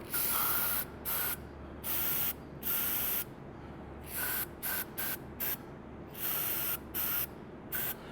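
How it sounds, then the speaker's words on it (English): An aerosol can of electrical switch cleaner sprays in repeated short and long bursts onto a Toyota MR2 Spyder MAF sensor, close up, each a sharp hiss separated by brief pauses. "We just give it a good spray."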